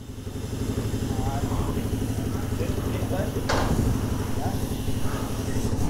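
Honda CG160 Titan motorcycle fitted with a full stainless-steel Atalla exhaust, its engine running at a steady low idle, close and continuous beneath people talking.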